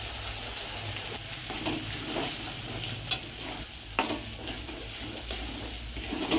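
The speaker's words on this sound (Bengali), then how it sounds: "মশলাটা কষানো হয়ে গেছে" Ground cumin, turmeric and chili powder sautéing in a hot pan, a constant dense sizzle with occasional spoon knocks and scrapes as the spices are stirred, close up and with no voices.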